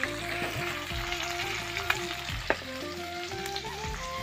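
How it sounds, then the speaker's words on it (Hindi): Fish frying in hot oil with turmeric and spices over a village cooking fire, a loud steady sizzle with occasional pops and stirring scrapes, no talk. "इसमें हल्दी मसाला तेल वगैरह डालते हैं, फिर इस टाइप का तलते हैं"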